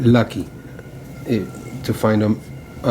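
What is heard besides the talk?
No distinct noise like a dog, phone or traffic.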